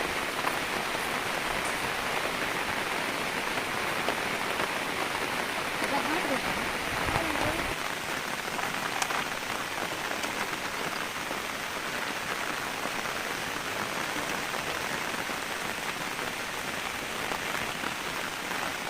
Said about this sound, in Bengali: জালটা রেডি না করতে করতে কত জোরে বৃষ্টি এসছে।